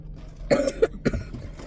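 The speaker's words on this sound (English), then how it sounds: "I'm so sorry for my coughing" A few short, harsh coughs close by, two or three bursts in quick succession with brief pauses between.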